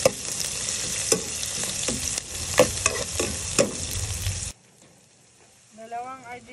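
Two 150-gram cans of Argentina corned beef browning in a pan for pastil, with a spatula stirring and scraping in a sizzling rhythm of clanks. The stirring then stops abruptly into near quiet, followed by a faint tonal sound.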